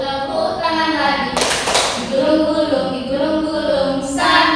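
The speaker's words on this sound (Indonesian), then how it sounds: "Buka tutup, tepuk tangan lagi." In a classroom song game, children clap hands in brief bursts between stretches of sung melody, the clapping loud and close, with a voice singing through most of the clip.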